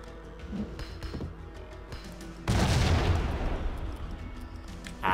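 M79 grenade launcher fire in the Max Payne video game, a sudden loud blast followed by a rumbling, decaying roar after quieter scattered game noises, with another hit right at the end.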